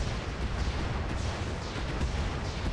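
Heavy mech weapons fire in the BattleTech-based video game Roguetech, a dense, continuous rumble of booming artillery-like shots and explosions with no clear gaps.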